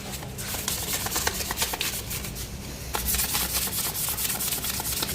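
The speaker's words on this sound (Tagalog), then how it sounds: "lagyan natin ng lihain natin konti itong axle para bawas kalawang" Sandpaper scrubs a rusty axle on a Yamaha Nmax scooter during a center stand repair, a steady close-up rasping that runs continuously for about five seconds with rapid back-and-forth strokes and no voices.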